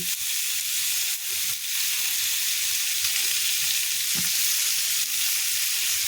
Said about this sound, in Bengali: সবজিগুলোকে হালকা ভেজে নেব আমি